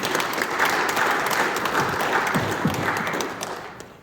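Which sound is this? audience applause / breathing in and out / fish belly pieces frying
audience applause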